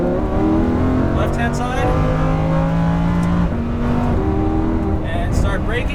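Lamborghini Huracan engine at Exotics Racing LA, loud and steady as it accelerates out of a corner, with rising and falling harmonic tones, while an instructor talks over it.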